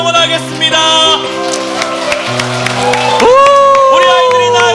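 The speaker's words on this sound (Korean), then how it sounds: "힘차게 박수치고 소리치며 응원하겠습니다" A church congregation stands cheering for children walking down the center aisle, with continuous crowd noise and clapping under strong sustained organ or keyboard music that swells with rising tones.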